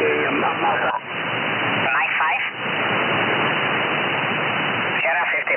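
Radio static from amateur bands received through an SDR receiver connected to a 49:1 transformer antenna, a steady loud hiss filling the clip with brief faint voice fragments breaking through.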